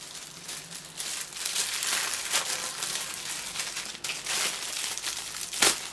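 A lightweight mail parcel is torn open, giving a stretch of loud, close crinkling and crumpling plastic and paper, with a sharp rip near the end.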